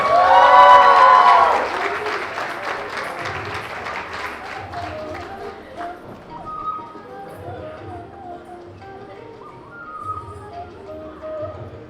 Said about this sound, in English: I'm sure the students need another round of applause for their outstanding performance thus far